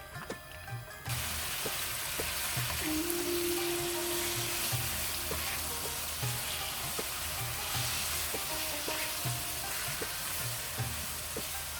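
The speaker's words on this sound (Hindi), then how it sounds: "अब इसमें मैं चिकन डाल दूंगी।" Chicken frying for shawarma in a pan over a full gas flame, a steady loud sizzle with occasional stirring clicks, heard alone after a short quiet start.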